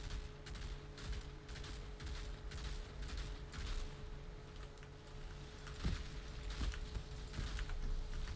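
Turrets firing in the video game Outriders, a steady rattle of rapid gunfire with a few heavier booms near the end, continuous and moderately loud.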